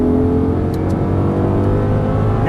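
An Audi R8 V10 on a track accelerates hard, its engine a loud, steady, sustained drone, with the pitch climbing sharply at the very end.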